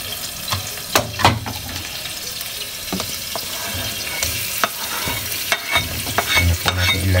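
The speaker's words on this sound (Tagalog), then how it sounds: "Ayan po natin kumulo ng mantika" Cooking oil bubbling over medium heat in a pan makes a steady close sizzle, punctuated by scraping stirs and clinks of a utensil against the metal.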